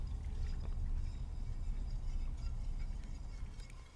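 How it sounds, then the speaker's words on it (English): Milk pours into a pan for a béchamel sauce with a soft, continuous liquid splash, quiet and close, for about four seconds. "We'll add milk and whisk that together."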